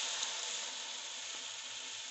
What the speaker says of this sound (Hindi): अब मटर ऐड करेंगे और इनको थोड़ा सा फ्राई करेंगे।